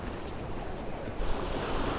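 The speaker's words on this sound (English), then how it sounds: "And look how crazy windy it is." Strong, gusty wind roars at a windy catfish fishing spot, buffeting the microphone with a constant loud broadband rush and no talking.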